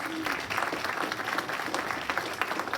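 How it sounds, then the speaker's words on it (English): An audience at a public event for county commission candidates breaks into sustained applause, a thick, continuous wash of many hands clapping, steady in level throughout. "Let's give all of our candidates a round of applause."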